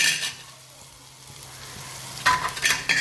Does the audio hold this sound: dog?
no